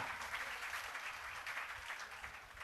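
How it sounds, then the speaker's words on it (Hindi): Applause from a school annual-day audience in Chennai, a steady wash of many hands clapping at moderate level throughout the short stretch, with no voices rising above it. "जोरदार तालियां।"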